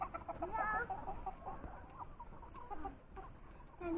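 Chickens clucking in a farmyard, a few soft murmuring clucks and short calls, moderately close but quiet, with low background noise and no talk.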